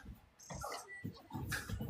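Dogs playing roughly together indoors, making a continuous close jumble of growls, snorts and whimpering yelps that rise and fall in quick bursts.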